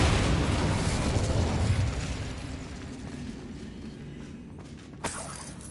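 An Incendio fire spell blast erupts in the Hogwarts Legacy video game as a loud burst that slowly fades into a roaring, crackling decay, with a small sharp pop near the end.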